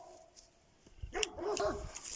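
Dogs bark on a hiking trail near La Couvertoirade, a cluster of sharp barks and yips that grows louder partway through, after a quiet start.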